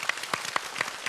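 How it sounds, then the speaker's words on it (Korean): A studio audience claps to welcome a professor giving a lecture on memory and dementia, several distinct sharp claps at an even rhythm, close and moderately loud. "자, 박수로 맞이합니다."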